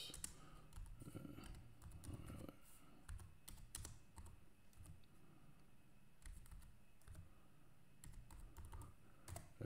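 Fingers type on a computer keyboard in a room, a fairly steady patter of close, quiet key clicks with brief pauses and a few sharper taps, faint talk briefly underneath.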